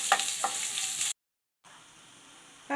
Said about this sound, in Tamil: இதையும் சேர்த்து நல்லா வதக்கிக்கலாம்.